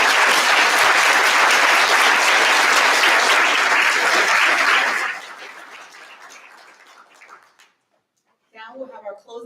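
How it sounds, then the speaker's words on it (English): Loud, dense applause from a community college Black History Month audience honoring its honorees, sustained for about five seconds before thinning into scattered claps and fading, with brief talk at the end. "let's give a round of applause to all of our honorees"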